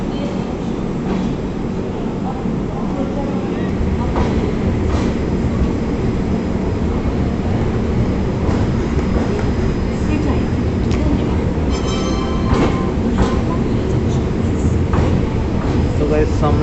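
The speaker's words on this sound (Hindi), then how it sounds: "ट्रेन यहाँ से डिपार्ट कर गई है" The Swarna Jayanti Shatabdi Express pulls out of Amritsar Junction, a dense steady rumble of rolling railcars with occasional clicks and clanks, heard close on the platform amid station noise and voices.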